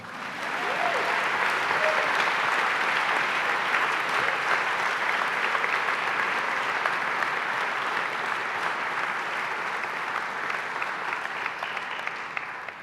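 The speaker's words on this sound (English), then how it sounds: "You can clap for them." A commencement ceremony crowd gives sustained, dense applause for the founding board of trustees, a steady roar of many hands clapping that holds for over ten seconds before easing slightly.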